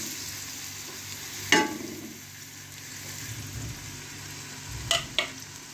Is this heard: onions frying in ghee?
yes